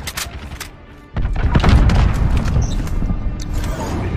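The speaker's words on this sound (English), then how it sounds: "Allied cruise missile away." Cruise missile explosion in Call of Duty: Modern Warfare, heard as a sudden deep boom about a second in, followed by a sustained rumbling roar with scattered distant gunfire crackling through it.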